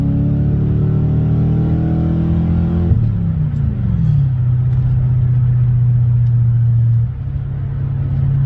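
A car engine with a just-repaired fuel leak runs steadily nearby, its pitch dropping and settling into an even, low idle hum after a brief shift.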